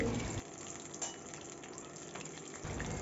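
Crab pakoras coated in batter fry in hot oil, giving a faint, steady bubbling sizzle with a few light clinks, with no voices.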